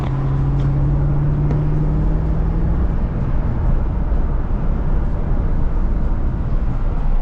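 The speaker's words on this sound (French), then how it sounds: "un bon vieux 6 cylindres comme BM, ils savaient faire encore" Old BMW six-cylinder car engine on the road, a steady loud drone from inside the cabin with a low hum that fades early, mixed with broadband road and wind noise.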